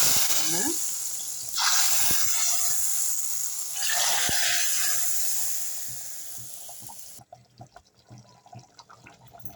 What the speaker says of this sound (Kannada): ಸಾರಿಗೆ ಇವಾಗ ಒಗ್ಗರಣೆ